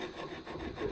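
Hand file rasping against the rusty thread of a steering tie rod on a Renault Clio 2, a steady close scraping texture that continues without pause across the short moment.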